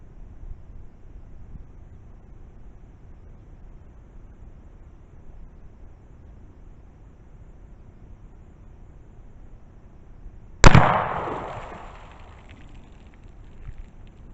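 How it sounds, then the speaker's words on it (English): A 10mm carbine firing DoubleTap Equalizer ammunition at 10 yards produces a single sharp, loud gunshot whose crack decays over a second or so after a stretch of quiet outdoor background. "Shot of the DoubleTap equalizer, 10 yards."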